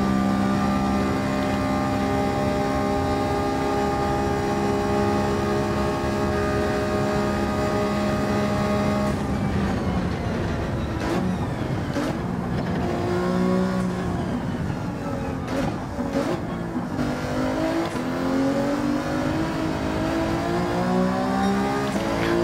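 An Alfa Romeo 155 touring car's engine in Gran Turismo 7 holds a loud, steady high-revving drone at full speed, then shifts into rising and falling revs with gear changes, sounding alone without any voices.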